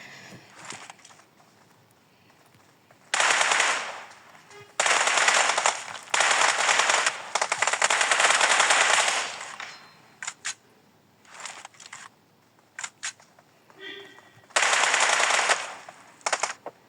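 Bursts of automatic gunfire from PUBG Mobile, loud rapid volleys lasting a second or two each, separated by quiet gaps and a few short isolated shots, with no talk over them.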